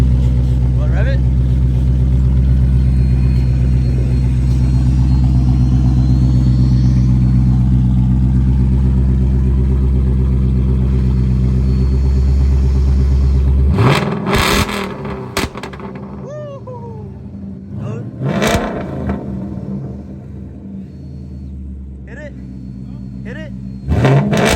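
A loud, rough 2018 Ford Mustang GT V8 with a muffler delete idles steadily, then is revved in several sharp bursts that crackle and pop, with voices speaking briefly between revs.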